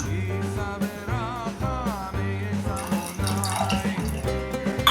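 Water is poured from a tumbler into a pressure cooker holding chopped carrots, giving a running, splashing pour that continues throughout with tonal background sounds and brief bursts layered over it.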